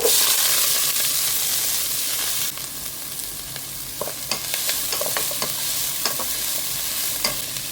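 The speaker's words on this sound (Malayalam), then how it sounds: "കടുക് പൊട്ടി വരുന്നതുകൊണ്ട് നമ്മുടെ ഉള്ളി അരിഞ്ഞതും പച്ചമുളകും കറിവേപ്പിലും ഇടാം" Chopped onion, green chili and curry leaves hit hot coconut oil where mustard seeds are popping, giving a loud sizzle that settles into steady frying with stirring scrapes and scattered pops.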